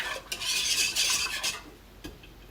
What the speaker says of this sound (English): let me stir my cheese sauce again